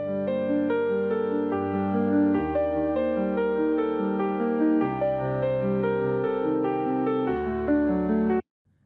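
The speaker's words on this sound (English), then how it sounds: "I created this instrumental piano piece of music beforehand." Solo instrumental piano plays a sustained passage of layered chords and a melody, steady and close, with no voices, before cutting off abruptly near the end.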